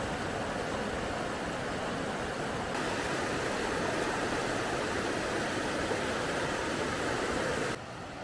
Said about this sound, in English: Oh, you can hear the waterfall.